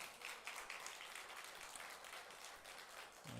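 Faint, steady clapping from a church congregation during a men's fellowship worship service, a thin wash of applause running the full few seconds with no voices.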